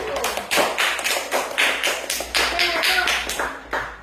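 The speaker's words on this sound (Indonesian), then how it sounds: "tepuk tangan untuk kelompok 1" A class in an Indonesian-language lesson claps for the first group, crisp bursts of hand claps landing in a quick, patterned rhythm of roughly three per second, close and loud.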